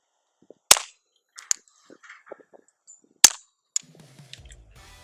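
Suppressed semi-automatic rifles fired outdoors, a few sharp muffled cracks spaced apart, each followed by faint metallic clinks and rattles of the action, with a quiet shuffle at the end.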